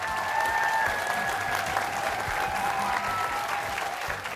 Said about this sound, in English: Nice round of applause for the Belmont team.